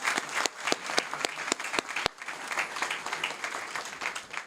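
A crowd at a school board meeting breaks into applause, dense overlapping hand claps with some sharp individual claps standing out, sustained for several seconds at moderate level.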